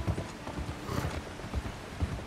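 Horse hooves clip-clopping in Red Dead Redemption 2 during a ride back to camp, a steady rhythmic series of soft, low thuds at moderate distance, fairly quiet, with no talk.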